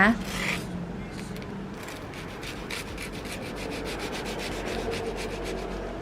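Crisp, dry crunching and scraping of a toasted cheese sandwich, repeated in short bursts close up, with no talking.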